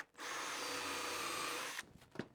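A power drill sinks a 1.25 inch screw into wood in one continuous whir of about a second and a half, followed by a couple of faint knocks.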